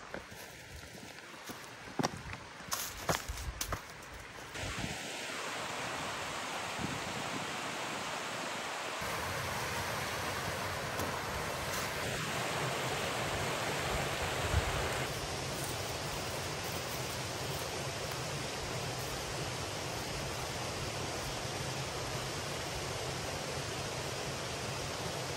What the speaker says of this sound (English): Hiking right alongside of the stream.